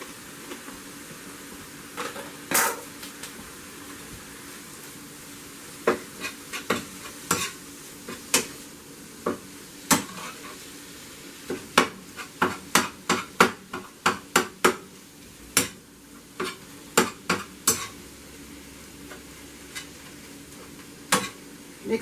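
A spoon mixes stuffed bell pepper filling seasoned with basil, producing a run of sharp, irregular clicks and knocks against the bowl over a quiet background, sometimes in quick bursts, with no voices.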